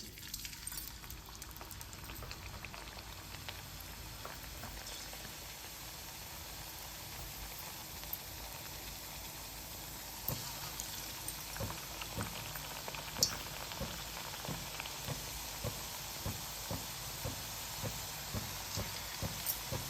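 Thattai rice crackers fry in hot oil with a steady, soft bubbling crackle, faint and continuous, with occasional sharper pops and no voices.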